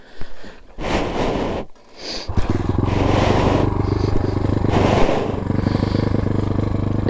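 A motorcycle starts up close by: a few clattering attempts and brief revs, then the engine catches and settles into a loud, steady rumbling idle, with a voice speaking briefly over it.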